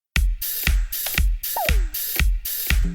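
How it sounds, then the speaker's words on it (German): A punchy drum loop plays on its own, with kicks and crisp hits landing at a steady rhythm, each beat sharply defined, plus a brief sliding tone mid-loop. "also solche Drum Loops, Percussion Loops etc."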